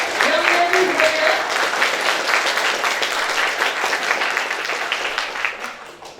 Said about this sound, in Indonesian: Boleh tepuk tangannya lagi